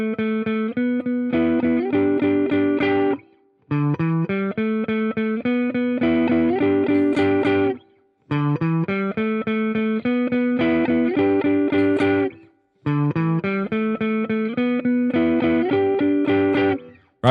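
Electric guitar plays a solo, with a clean, slightly effected tone. The melodic phrases are strummed and picked and repeat in several passes, with brief gaps between the runs. The playing is loud and close, with no voices.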